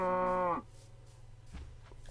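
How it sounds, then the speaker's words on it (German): Cow in the video game Minecraft lets out a short, loud moo, followed by quiet background sounds and faint soft noises. "Und die Kühe."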